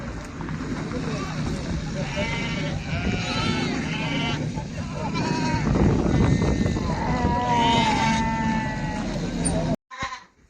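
Sheep and goats bleat repeatedly and close by at a busy livestock market, calls overlapping against a constant din of crowd noise and people talking.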